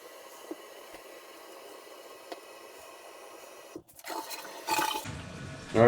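A toilet flushes just after a wax ring replacement, first with a quiet steady hiss of water, then a loud, close rushing gurgle as the bowl empties and refills.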